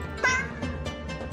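A cartoon cat meows once, clear and close, in the 100 Asian Cats video game, with softer repeated tones and a low steady background bed underneath.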